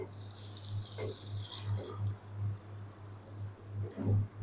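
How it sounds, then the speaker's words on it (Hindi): About a litre of water pours into a wok with beans in it, a continuous splashing rush through the first half that then turns into intermittent gurgles and small splashes, close over a steady low hum. "और इसके अंदर हम ऐड कर देंगे तकरीबन 1 लीटर पानी।"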